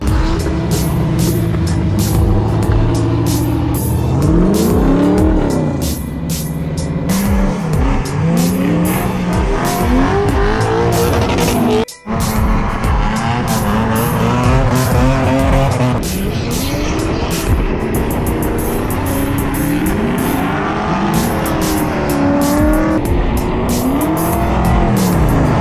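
Several race cars drift in tandem on a wet track in pouring rain at the first event of the year, engines revving and wailing loudly with tire squeal as they pass near, continuous and dense throughout.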